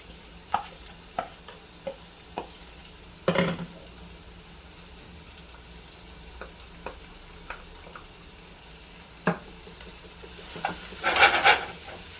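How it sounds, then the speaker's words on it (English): Onion and garlic frying in a pot for chicken vegetable soup, with a soft steady sizzle under scattered sharp taps and scrapes of a spoon stirring, and a louder burst of sizzling near the end; no talking. "we can add our onion and garlic to start getting them translucent."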